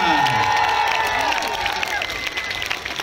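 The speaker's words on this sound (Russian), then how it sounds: "Ваши аплодисменты, друзья!" A concert audience at a live symphony orchestra performance with the Krasnodar regional philharmonic bursts into loud, dense applause and cheering, and a voice is heard over it as the clapping eases slightly over three seconds.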